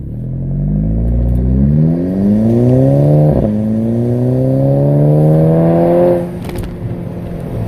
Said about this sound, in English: it has an exhaust note that German engineers thought would be sounding great for this car